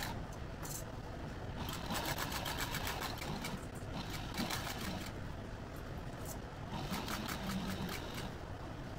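A sewing machine stitches a sling bag in steady rapid bursts. Quick needle chatter comes in two main runs with a short gap between, fairly quiet and close, with no voices over it.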